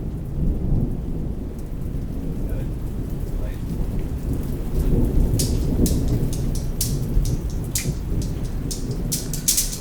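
Steady rain pours down while low thunder rumbles and rolls through, with sharp crackling bursts in the latter half.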